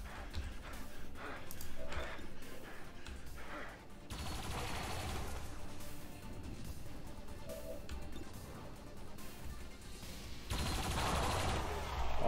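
Automated turret opening fire in the strategy game XCOM 2: Long War of the Chosen, a sustained barrage of dense, loud gunfire with several heavy bursts, mixed with game noise and some talk.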